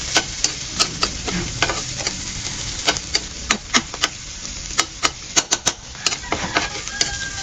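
Garlic sautéing in a wok-style pan for mung bean stew with smoked fish, a constant bright sizzle punctuated by sharp, rapid metallic taps and scrapes of a spatula, close and fairly loud.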